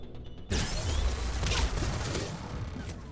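Turret firing in Mass Effect 3, a sudden burst of rapid gunfire that breaks in abruptly and continues as dense, loud, crackling shots with mechanical clatter for a few seconds.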